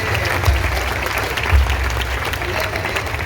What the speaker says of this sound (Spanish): también se dan fuertes aplausos que a los hermanos de Santa María de Bach